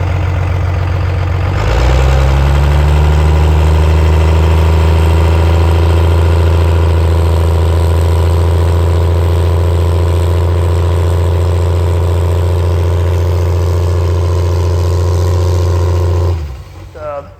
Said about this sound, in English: bring it up against the trans brake like you're going to do a spool up, but just some fuel only, not really trying to spool it, just trying to get the engine good and hot